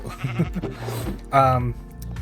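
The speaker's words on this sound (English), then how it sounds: "But I need more wool, sheep. Eat the grass." A blocky video-game sheep bleats in a short wavering cry while a player asks it for more wool, the game's bleat standing out clearly over steady background music.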